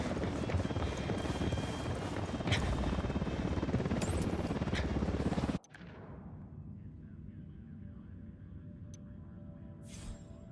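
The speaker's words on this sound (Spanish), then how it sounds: "Helicóptero acercándose." A helicopter approaches with a loud, dense rotor and engine roar for about five seconds, then the sound cuts off abruptly to a faint, quiet background.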